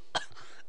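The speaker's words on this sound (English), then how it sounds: "I think I got a kennel cough" A single short cough from an adult man indoors, fairly quiet and close, with a faint throat sound trailing after it.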